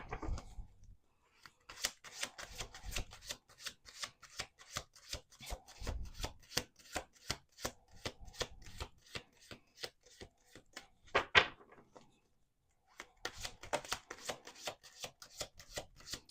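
Faint, rapid riffling and flicking of tarot cards in repeated bursts, with short pauses between shuffles, close and quiet.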